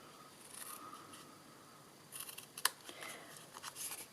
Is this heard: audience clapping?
no